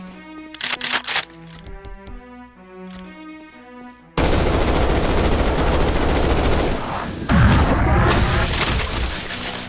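Rapid carbine fire in Doom 2 with the Project Brutality mod, a dense, loud, sustained burst of automatic shots following a stretch of tonal game music and pulses.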